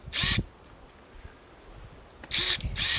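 Makita DUP270 cordless garden pruning shears give two short, loud mechanical bursts, one near the start and a double burst near the end, with a quiet pause between them and no talk.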